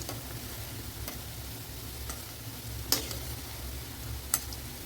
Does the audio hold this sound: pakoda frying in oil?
yes